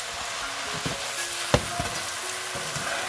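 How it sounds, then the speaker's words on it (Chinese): Chopped Chinese chives go into a wok with bean sprouts to be stir-fried, giving a soft, steady sizzle with a few quick spatula scrapes and taps against the pan. "把刚才我们切好的韭菜段放进去"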